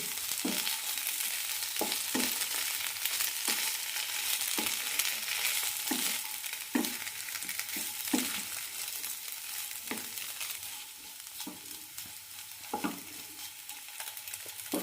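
Kozhukatta dough made with flattened rice and oats is stirred in a hot pan, with a steady sizzle and repeated scraping knocks of the spoon at an uneven rhythm.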